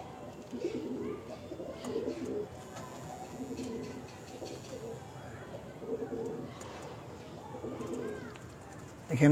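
Andhra pigeons at a home loft coo repeatedly in low, throaty pulses at a steady, close distance, with a person talking over much of the cooing.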